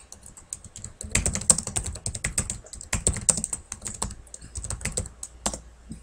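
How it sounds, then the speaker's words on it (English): Fingers type on a computer keyboard in quick, irregular bursts of close, crisp key clicks with short pauses between runs, setting up an Excel spreadsheet. "it's just a matter of typing it all in"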